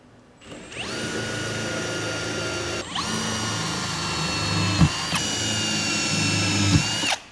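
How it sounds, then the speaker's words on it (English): A power drill bores holes through the trunk lid of a 2002 Acura RSX Type-S DC5, two long whining runs close up, separated by a brief pause, with small knocks as the bit breaks through. "So we got to drill a couple of holes on the trunk lid here"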